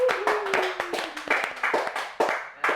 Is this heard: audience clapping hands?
yes